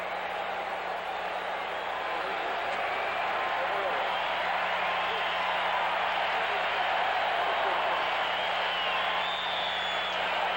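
A 1979 Patriots at Bears NFL game, with a football stadium crowd cheering and applauding a Bears completion. Broad, distant crowd roar holds steady for ten seconds with a faint steady hum beneath it.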